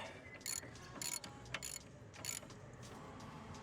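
Hand ratchet wrench loosening a bolt on a Ford Focus ST170: a few short bursts of rapid metallic clicking at intervals, close but fairly quiet, against faint background noise.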